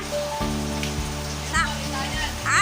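Typhoon rain patters steadily on a surface nearby, a constant wash of drops with a low hum and faint voices underneath, during flooding.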